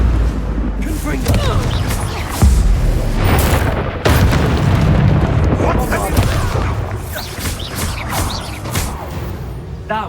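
Repeated booming blasts of the Confringo explosion spell in Hogwarts Legacy, dense and loud over a continuous rumble of game effects, with a player shouting over the action.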